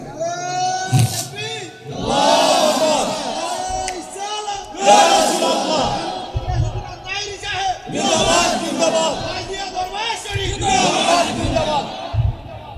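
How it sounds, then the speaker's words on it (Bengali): A large crowd at an outdoor Islamic sermon gathering shouts a slogan in loud unison, with repeated roaring call-and-response bursts from many voices. A lead voice on a loudspeaker fills the gaps between the shouts. "কারা কারা চান দুই হাত তুলে একটা স্লোগান লন"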